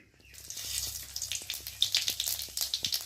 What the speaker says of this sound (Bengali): কড়াতে তেল দিয়েছি তেলটা গরম তো এখন ফোড়নে দিয়ে দেবো মৌরি